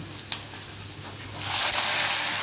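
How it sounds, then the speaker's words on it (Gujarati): Steady hiss of frying in hot oil with asafoetida, growing louder and brighter midway as garlic is added, with a small clink near the start. "હવે જો આ લસણ નાખું છું"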